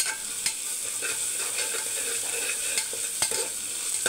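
Onions fry with a spoonful of ginger garlic paste in a pan, a steady close sizzle broken by several sharp scrapes and knocks of a spoon stirring.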